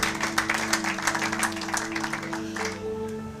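Congregation applauding in a church during a sermon, a moderately loud patter of many hands clapping in a fairly even rhythm over a sustained organ-like tone, fading slightly toward the end.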